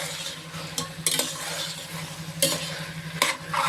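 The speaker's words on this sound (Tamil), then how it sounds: "இதையெல்லாம் போட்டு நல்லா கிண்டி விட்டுக்கிறோம்" Chopped vegetables and shelled green peas being stirred in a pot for vegetable biryani, with a low sizzle underneath and several sharp scrapes and clinks of the spoon against the pot.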